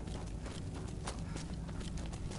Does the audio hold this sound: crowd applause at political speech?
no